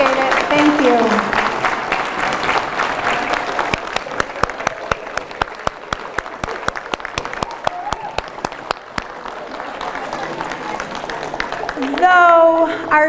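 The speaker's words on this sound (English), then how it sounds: "If we can stand and just give a round of applause to our grads" A crowd at a high school graduation ceremony applauds its graduates, with dense, sustained clapping that carries on steadily and thins toward the end, where a voice briefly speaks.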